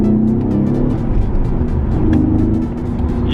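A 2004-era Alfa Romeo GT 3.2 V6 on its stock exhaust rumbles close by, a loud, steady low engine drone with a slight swell in revs, with no talking.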